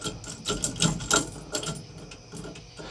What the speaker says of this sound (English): We can go ahead, crank them down a little bit more.